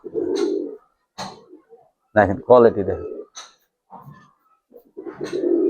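Young pigeons coo in short, throaty bursts, loud and close, with someone talking between and over the calls.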